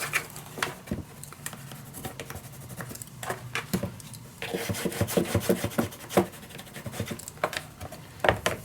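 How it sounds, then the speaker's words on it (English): Paper being burnished down with a burnishing tool while assembling a mini album in a storage box: close, dry rubbing and scraping strokes in irregular bursts, louder toward the end, with no talking. "I'm just gonna burnish this down"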